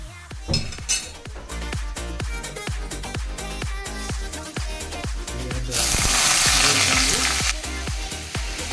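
Tharoi Paaknam frying in a pan until crusty, with loud continuous sizzling and rapid scraping and stirring taps from a utensil against the pan; the sizzle swells louder for a stretch near the end.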